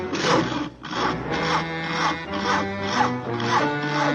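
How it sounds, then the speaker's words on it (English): A cartoon saw rasps back and forth through wood in a steady rhythm of about eight rough strokes, each stroke a loud scraping burst with brief gaps between. "Isn't that your house Harry is sawing on?"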